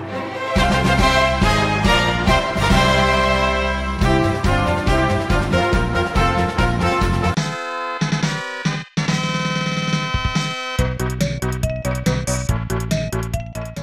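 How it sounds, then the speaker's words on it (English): A bright, loud burst of triumphant game music plays, with brassy chords and quick melodic runs, briefly dropping out near the middle before resuming. "You know what most victory fanfares are supposed to sound like"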